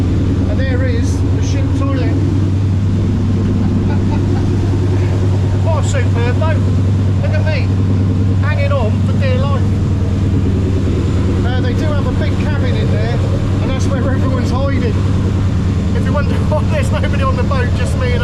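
Boat engine droning from the back of a whale-watching boat in the Bay of Bangkok, a steady low rumble running the whole time under a man's close, ongoing talk.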